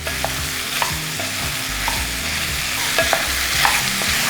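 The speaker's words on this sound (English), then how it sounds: "I'm giving everything a good mix. I want the vegetables to caramelize a little bit." Vegetables with ginger and garlic sizzle steadily in a hot pan for pumpkin soup, with a spoon scraping and stirring through them in repeated strokes and no voices.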